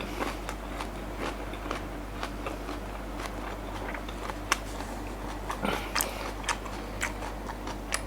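Someone chews a bite of nem nuong, Vietnamese grilled pork roll, close to the mic, producing soft, regular wet clicks and smacks over a quiet, low hum.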